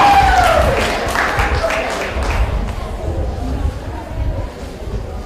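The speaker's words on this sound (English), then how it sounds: "another round of applause for all our delegates" Applause at a primary school pageant for the delegates, a dense crowd clapping in a reverberant space with a low rumble underneath and a brief vocal sound near the start, continuing steadily throughout.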